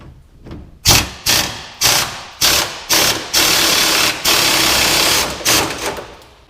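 A power tool, likely an impact wrench, rattles in repeated bursts while removing the 21 mm rear shackle bolts on a 2018 Chevrolet Silverado 4x4, loud and close with short pauses between rattling runs.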